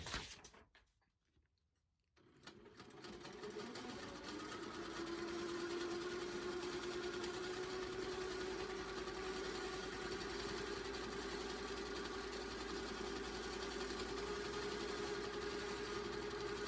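A domestic sewing machine stitching a quilt block, starting after a short quiet pause and then running as a steady, continuous motor whir with a fast stitching rhythm, close and fairly loud, with no talking.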